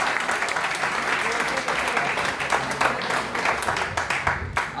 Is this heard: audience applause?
yes